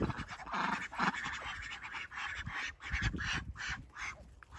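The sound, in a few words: ducks quacking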